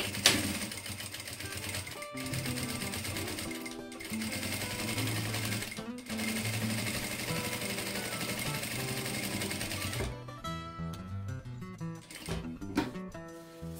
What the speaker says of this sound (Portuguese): Feito isso, já vou aproveitar e vou passar uma costura toda a volta